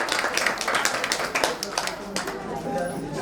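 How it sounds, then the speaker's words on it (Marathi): Enthusiastic applause at a retirement felicitation gathering, a dense clatter of many hands clapping together, mixed with voices talking over it. "जरा जोरदार टाळ्या."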